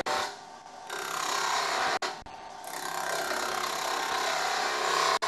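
A wood lathe spins a timber blank held in a wobble chuck, a steady whirring hiss with tool rubbing, broken by a couple of brief sharp dropouts, close and continuous with no talking.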